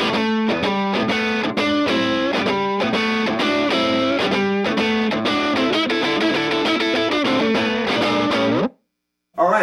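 An electric guitar driven through an Analog Man Tube Screamer and a Keeley Blues Driver 2 plays a continuous distorted, chordal riff, loud and steady, then cuts off abruptly near the end.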